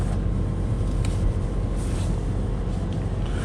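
Cabin fans whirring inside a Volvo P2 car (V70, S60, S80, XC70 or XC90) with the door open, a steady close hum with faint clicks and no talk.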